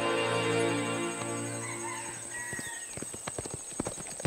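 Horse hooves clip-clop in a steady, close rhythm, following a sustained tonal background with a faint whinny-like sound.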